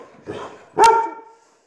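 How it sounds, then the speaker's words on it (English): Dog barking close by, a soft short woof followed by one loud sharp bark that fades quickly. "Who are you barking at?"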